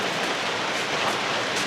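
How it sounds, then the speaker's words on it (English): Heavy rain pounds steadily on a roof in Texas, a dense, continuous hiss of close drumming with no pauses and no voices. "it's raining like a sumbitch here in Texas and pounding on this roof"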